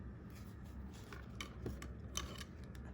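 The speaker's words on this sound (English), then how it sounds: "a pair of scissors" A small pair of scissors from a crochet giveaway bag is handled quietly, giving faint scattered metallic clicks and light rubbing close by, with no one speaking.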